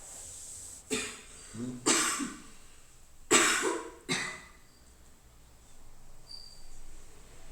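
Four sharp coughs ring out at uneven intervals, fairly close and loud, with quiet background noise between them.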